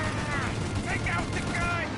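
Rapid gunfire during a shootout in the video game Mafia Definitive Edition, a continuous loud clatter of shots under shouted voices.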